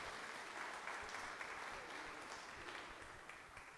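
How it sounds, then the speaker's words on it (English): Soft, distant applause rises from an audience at a military ceremony to honor an officer's wife, a steady patter of many hands that fades slightly toward the end. "Please give my wife a round of applause."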